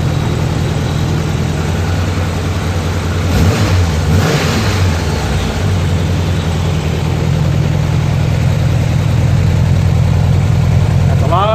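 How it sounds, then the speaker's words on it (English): A 1986 Honda Goldwing GL1200 motorcycle that burns oil in one cylinder, its engine idling loudly close by and rising in a brief rev before settling back to a steady rumble. "Rev the motor up."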